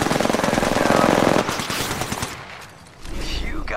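Rapid machine-gun fire in Apex Legends, a fast continuous stream of loud close shots that tapers off after a second and a half into scattered reports and a quiet pause, then resumes with more noise and a voice.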